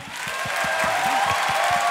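A studio audience applauds on a talk show, with dense, close clapping building quickly and holding steady at full strength across the short span.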